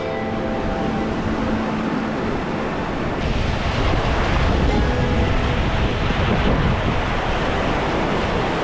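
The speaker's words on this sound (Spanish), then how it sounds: "Aquí está un río que es pieza fundamental y clave." A river flowing through the mountains of northern Morocco, a loud steady rush of water mixed with heavy wind buffeting the microphone, continuous throughout with no voices.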